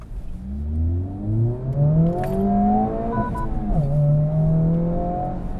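A Honda Civic Type-R engine revs up through the gears, pitch climbing in several rising sweeps with a brief dip at a shift, heard loud and close from inside the car.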